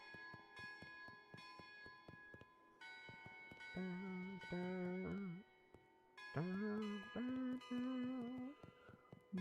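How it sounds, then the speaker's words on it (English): Cathedral bells ring in a video game, a series of layered metallic strikes with a sustained melodic tone swelling over them in two bursts, fairly close and clear. "Hear the ringing of the cathedral bells and turn to see the source."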